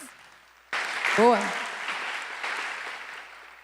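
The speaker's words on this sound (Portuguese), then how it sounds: "Palmas." Audience applause at a journalism panel discussion, a sudden burst of dense clapping that swells and then holds steady in the room, with a voice briefly calling out over it.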